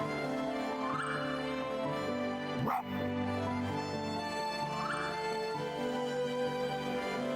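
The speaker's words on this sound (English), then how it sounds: "I wish to charge up a Super Bark." A dog-like bark being charged up in the video game Spirit of the North, heard as whimpering, yipping canine calls over a sustained musical game score with a sharp swell in the middle.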